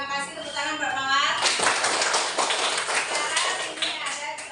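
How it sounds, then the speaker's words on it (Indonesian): A short burst of applause from a small classroom group, several seconds of quick clapping, close by, after a brief spoken line in Indonesian. "terima kasih, tepuk tangan buat Mawar"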